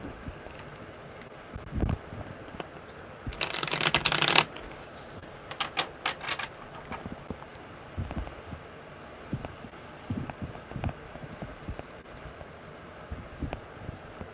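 Tarot cards being shuffled by hand, with a dense riffling burst partway through and soft scattered card taps and slides around it, close by and fairly quiet.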